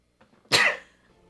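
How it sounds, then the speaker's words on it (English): A single sharp, loud sneeze-like burst from a person, abrupt onset then a short fading tail, preceded by faint quiet rustling. "I have to sneeze."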